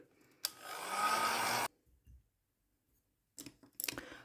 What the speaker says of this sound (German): Dazu nehme ich jetzt mal eben schnell meinen Föhn.